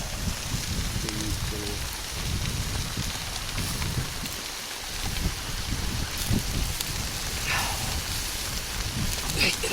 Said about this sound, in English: It is teeming of rain, guys.